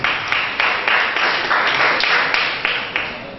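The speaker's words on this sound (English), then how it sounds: "Can you give me a very great applause?" Applause from a meeting audience, with loud rhythmic clapping bursts repeating about every third of a second over a steady wash of hands, close and continuous.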